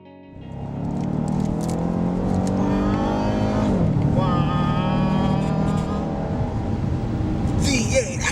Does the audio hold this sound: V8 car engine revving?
yes